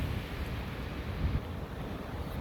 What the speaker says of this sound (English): Here comes a gust.